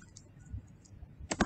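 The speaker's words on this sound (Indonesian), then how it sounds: "di Grok ini akan saya ketikkan perintah atau promptnya seperti ini" A few sparse clicks on a computer keyboard while a prompt is entered for an AI chatbot, with a faint tap early on and then a close pair of sharper key presses near the end, quiet and without speech.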